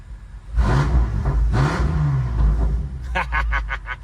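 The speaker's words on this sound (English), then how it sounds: "Let me give y'all a quick little rev." A parked car's engine is revved twice, rising and falling in a close, throaty roar, then a voice speaks briefly as the engine settles back to idle.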